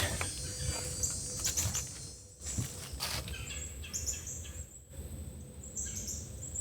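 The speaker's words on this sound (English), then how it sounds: "But I hear a bunch of birds." Several birds call outdoors in a swampy area of the Carolinas, with high chirps and twitters repeating over a steady background of rustling and distant ambient noise.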